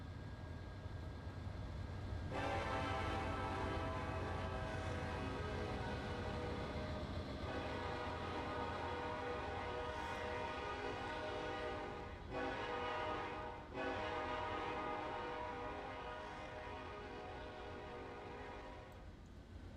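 Custom train horn in the Trainz 2022 game sounds a long, sustained, loud multi-tone chord over the rumble of a moving train, with brief breaks near the middle and a gradual fade toward the end.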